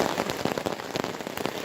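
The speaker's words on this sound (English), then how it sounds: "but we're having a little rain." Light rain at Thunder Lake along the Algonquin Western Uplands Trail in June, a steady dense patter of drops on surfaces with no voices.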